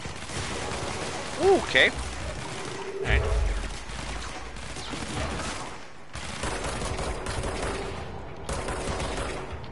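Gunfire in the action game Control, a few bursts of shots amid sustained combat noise, with players talking and exclaiming over it.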